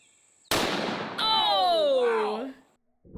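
A light gun fitted with a muzzle brake fires a big round in a video game, giving one sharp loud blast followed by a ringing, whistling tail that fades out over a couple of seconds.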